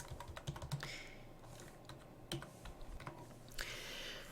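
Quiet, close keystrokes on a computer keyboard while a table is typed up in a word processor, coming in irregular bursts of clicks with short pauses between and no voices.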